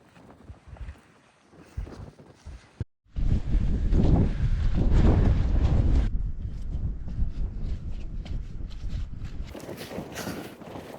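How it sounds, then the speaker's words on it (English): Fresh wind gusts across the microphone on the Pen y Fan horseshoe ridge, roaring loud in buffeting bursts with a rustling, blustery tail and no talk. "That wind is pretty fresh."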